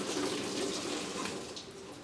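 A secondhand Whirlpool Cabrio washing machine fills with water fed from a garden hose, a steady, moderately quiet rush of inflowing water running continuously without talk.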